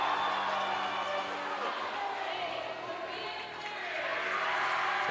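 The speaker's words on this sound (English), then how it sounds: "The crowd's pretty loud." Loud gym crowd noise at a high school volleyball match between South Medford and North Medford, a dense steady roar of cheering and chatter that dips briefly near the end before swelling again.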